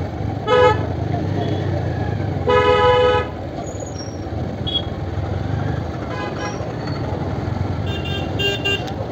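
Gridlocked traffic rumbles steadily while car horns honk repeatedly: a short blast, then a longer one, followed by several fainter toots and a flurry of quick beeps near the end.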